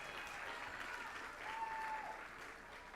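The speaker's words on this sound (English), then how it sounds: "Let's give her another round of applause." Applause at a board meeting for an honored staff member: a faint, even patter of many hands clapping, distant and sustained for the whole stretch.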